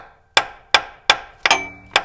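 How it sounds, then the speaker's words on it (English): A metal hammer taps a stuck transmission fill plug five times at a steady, roughly even pace, each strike a sharp, close metallic knock with a short ringing decay, and no talking. "I already have a metal hammer here"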